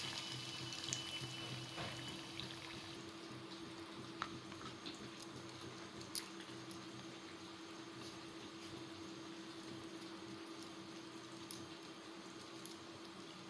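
Paneer cutlets frying in hot oil in a kadhai, a low continuous bubbling hiss with faint occasional pops and a steady background hum.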